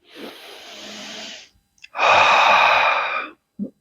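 Two deep breaths taken during a breathing exercise for the respiratory muscles: a first long audible breath, a pause, then a louder, strong inhale lasting over a second, ending with a brief soft exhale, close and with no talk.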